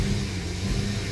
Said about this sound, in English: Look, I'm pressing and the car, the engine barely revs.